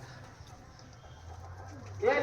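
Soft, low cooing of teddy pigeons in a loft repeating in the background, faint and close, with a brief louder noise at the end.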